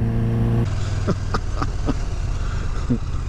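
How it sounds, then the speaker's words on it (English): A motorcycle engine drones steadily and loudly throughout while riding, with a few brief higher clicks or knocks over the rumble. "I'm just riding my motorcycle."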